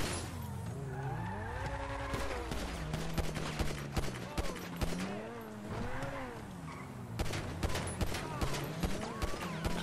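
Gunfire in GTA V Online rings out in repeated sharp bursts over the revving, sweeping engine sounds of cars during a cop-themed heist preparation mission.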